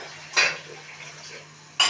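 Two sharp clinks of dishes being set down, close by, separated by a quiet pause with faint kitchen clatter in between.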